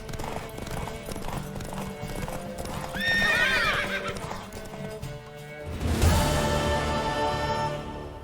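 Horse hooves clip-clop steadily as a horse whinnies loudly, with a second sharp neigh later, all over a layered game soundscape in The Witcher 3: Wild Hunt.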